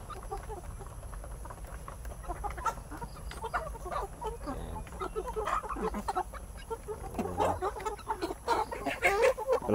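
A flock of gamefowl chickens clucks and chatters in a busy, overlapping stream of close calls, growing louder toward the end, with no one talking.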